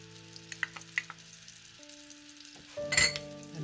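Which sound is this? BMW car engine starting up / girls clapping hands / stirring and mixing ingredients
stirring and mixing ingredients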